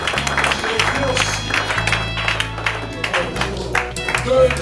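Church congregation applauding and cheering during a seminar service, scattered clapping over music and voices, with people talking throughout.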